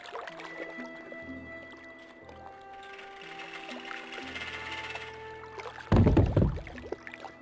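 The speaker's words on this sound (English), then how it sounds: "If we use this, this will send a barrel all the way down into the water." A barrel rolls down into water in Broken Sword 2: The Smoking Mirror (Remastered): a low rumbling roll with creaks, then a loud splash near the end, with no voices.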